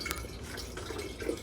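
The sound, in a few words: berry juice poured into glass wine jug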